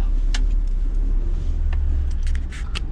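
A car engine idling and rumbling low and close while reversing slowly into a parking spot, a steady loud drone with light mechanical clicks above it.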